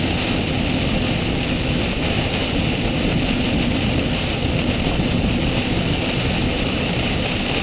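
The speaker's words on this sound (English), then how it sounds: "and the rain is just pounding us." Heavy rain pounds a car driving through Hurricane Gustav, a dense, loud, unbroken roar with a low rumble underneath, steady throughout and without talk.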